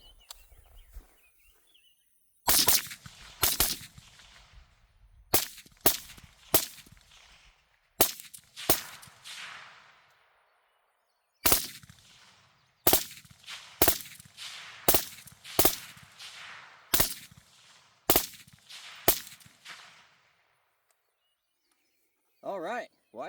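A short-barreled Warhammer Armaments rifle fires at targets at 10, 25 and 50 yards outdoors: about seventeen loud, sharp, ringing shots in uneven bursts with short pauses, faint birds chirping between them.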